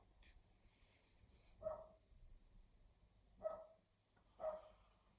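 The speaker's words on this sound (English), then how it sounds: "And there's my puppy" A puppy outdoors barks three times in short separate bursts, apparently wanting to be let in. The barks are fairly faint and distant, spaced a second or two apart over quiet background hum.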